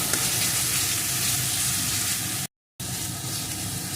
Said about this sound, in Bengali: এখন আবারও মশলাটা ভালো করে কষিয়ে নেব